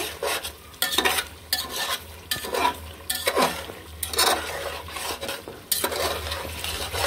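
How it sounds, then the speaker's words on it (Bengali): A spoon scrapes and stirs a chicken biryani mixture with powdered milk in a pan, repeated close bursts of scraping over a soft background sizzle. "পাউডার দুধ সাথে একটু দিচ্ছি। ভালো মতো মিশিয়ে নিব।"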